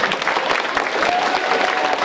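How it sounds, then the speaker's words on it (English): A school audience applauds steadily and fairly loudly throughout, with faint crowd murmur mixed in and no one speaking over it. "Give her a round of applause."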